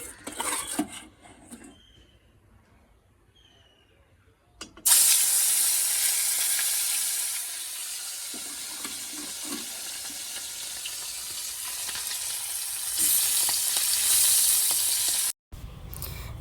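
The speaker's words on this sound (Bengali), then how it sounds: "তেল গরম হয়ে গেছে তো চলো মাছগুলো ঝটপট করে ভেজে নিই" Fish hit hot oil in a kadai and set off a loud, continuous sizzle that holds for about ten seconds, preceded by quiet handling and faint clinks and ending in a brief cut before the hiss returns.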